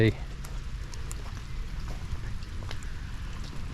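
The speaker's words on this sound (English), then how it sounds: "at least there's a little bit of shelter from the rain" Rain falling steadily outdoors, a soft continuous patter with scattered drips from a nearby shelter, moderately quiet and even, with a brief voice at the very start.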